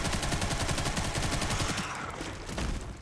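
Rapid submachine-gun fire from a Resident Evil game, a dense, loud run of automatic bursts that tapers slightly toward the end.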